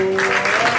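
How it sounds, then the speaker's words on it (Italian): Audience applause at a live charity music event in Segrate, steady dense clapping throughout the short moment, with a sustained tonal hum from music or feedback running underneath. "fate l'applauso quando vedete il telo."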